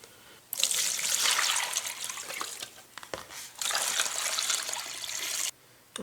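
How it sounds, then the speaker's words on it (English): Homemade rust remover being poured into a bath for machine gibs, two bursts of hissy, splashing liquid separated by a brief pause, close and fairly loud. "I'm going to go ahead and put them in a bath for a little while of the homemade rust remover."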